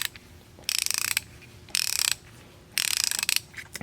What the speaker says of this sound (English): makes it significantly quieter than a standard ratchet